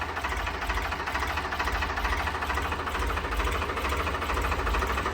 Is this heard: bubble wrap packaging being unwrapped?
no